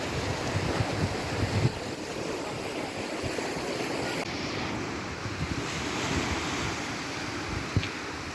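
Steady Black Sea waves wash and hiss against the shore at Odesa in fog, mixed with gusty wind buffeting the microphone, a constant broad roar with no voices.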